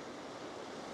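Gentle ripples of lake water, waves not even a foot tall, lap at a quiet sandy shore on an overcast day, giving a low, steady wash with faint wind and no voices.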